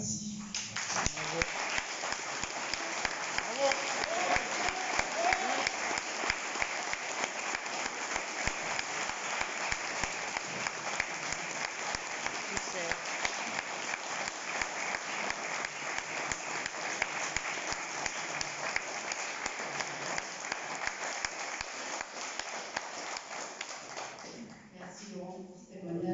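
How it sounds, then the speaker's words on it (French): A seated audience applauds at length at the end of a talk, a dense, even crackle of many hands clapping that holds steady for about twenty-five seconds before tapering off. "les applaudissements disent beaucoup"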